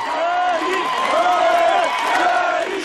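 Thousands of mourners in a funeral procession chant in unison, a loud, rhythmic mass of voices rising and falling in repeated phrases that fill the street.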